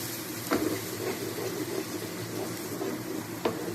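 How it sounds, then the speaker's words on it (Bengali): Water added to masala frying in a pan for chicken tikiya sizzles with a continuous soft crackle, with a couple of brief louder pops, close but fairly quiet and without speech. "এখন মশলাটা একটু ধরে গেছে তো একটু জল দিয়ে দেবো"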